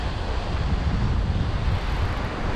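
Steady wind buffets the microphone at the seaside, a continuous dense roar with a faint wash of surf beneath and no other sounds.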